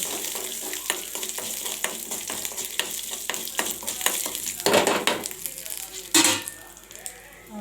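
Crackling sizzle of mustard seeds, cumin, curry leaves and urad dal hitting hot oil for pumpkin chutney, with a burst of louder spattering midway and a clink of a utensil near the end.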